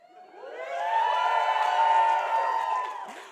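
A crowd cheers and whoops at a speaking show, swelling from quiet into a sustained loud roar that holds steady for a few seconds before easing, with high voices audible in the mix.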